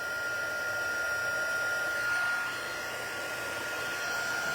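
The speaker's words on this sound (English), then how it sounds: "So using your heat tool, turn around and now heat up the snow. And it will pop." A heat tool blows steadily and close, a continuous whooshing hum with a thin whine as it heats snowfall accent puff paint on a snowman craft, with no talking.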